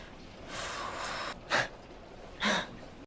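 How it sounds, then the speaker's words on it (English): Heavy, audible breaths from a flirtation scene in the film Twilight, a long soft exhale followed by two sharper, louder gasping breaths close to the microphone, with no talk. "It's just a lot of heavy breathing."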